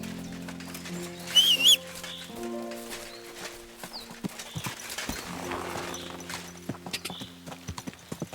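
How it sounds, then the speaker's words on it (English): Horse hooves clip-clop at a steady gallop in Kingdom Come Deliverance 2, close and clear over sustained music tones, with a brief bird call near the start. "We should spur the horses on."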